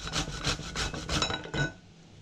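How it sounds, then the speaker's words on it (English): Bottle gourd being grated on a medium grater, six or seven quick rhythmic rasping strokes, close and fairly loud, stopping abruptly at the end. "I have used that medium size of the grater, and we can grate all the bottle gourd."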